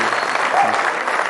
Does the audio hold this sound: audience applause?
yes